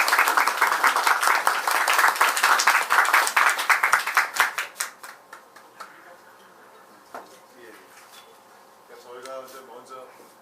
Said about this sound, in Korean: 우리 신창민 박사님 소개할 때 우리 큰 박수로 환영하겠습니다